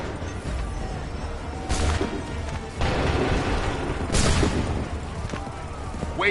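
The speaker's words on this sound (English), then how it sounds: "Open fire." Massed musket volleys fire on command in Assassin's Creed III Remastered, bursting out in a few loud crackling salvos spaced seconds apart over a busy battle din, with voices talking in between.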